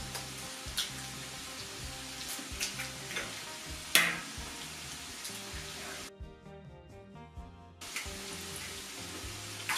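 Fried potatoes being stirred in a pan, with a soft continuous sizzle under scattered scraping and clinking of a utensil, one sharper knock midway, and no voices.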